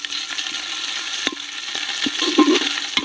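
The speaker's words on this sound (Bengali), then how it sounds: "এবার আমি আদা বাটা রসুন বাটা দিয়ে দেবো পেঁয়াজের মধ্যে, দিয়ে একটু ভালো করে ভেজে নেব।" Ginger and garlic paste sizzling with browned onions in a pan for chicken tehari, a soft steady fry with scraping stirs and a few louder bursts.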